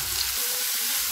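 Finely chopped onions go into hot oil tempered with mustard seeds, curry leaves and asafoetida for a tomato chutney. A short, steady sizzle of frying sounds close and bright throughout.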